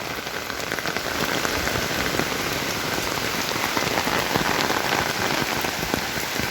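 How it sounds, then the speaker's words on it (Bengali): Steady, dense rain pours and patters on surfaces outdoors in Meghalaya, a continuous close hiss with no voices. "সুবিশাল মেঘালয়ে সুন্দর বৃষ্টির ঐশ্বরিক পরশ যেন ঠান্ডা"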